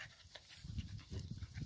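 A dog panting and snuffling close by, quiet rough breathy huffs and low grunts in an uneven rhythm, with no one talking.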